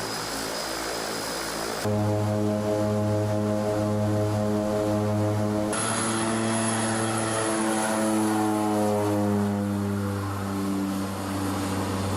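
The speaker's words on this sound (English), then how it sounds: "the seaplane is the ideal surf mobile to check the nearby spots" A propeller seaplane flying over the Maldivian atolls, with a steady droning engine hum and a strong harmonic whine whose pitch shifts as the aircraft passes. The sound is continuous and fairly loud, with no talking.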